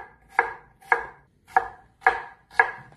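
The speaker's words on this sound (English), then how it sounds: "And we got the onion. Yeah, I want to slice it." A knife slices through an onion on a board while cooking chicken cacciatore: five crisp, evenly spaced cuts about half a second apart, close and clear, with no talking.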